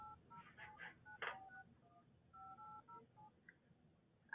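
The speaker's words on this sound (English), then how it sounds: "ask the customer to enter the digits over the phone" Touch-tone keypad beeps, short and evenly spaced, sound as credit card digits are entered over a phone line, thin and band-limited like a telephone call.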